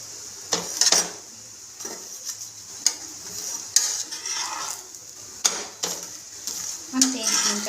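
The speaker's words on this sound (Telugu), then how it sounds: "కొంచెం ఆయిల్ వేసి పైకి మళ్ళీ దాన్ని టర్న్ చేసుకొని అటుపక్క ఇటుపక్క కాల్ చేసుకోవాలి." Chapati frying in oil on a hot pan and being flipped, with soft sizzling, scraping and clinking of utensils against the pan in irregular bursts, close by and moderately loud.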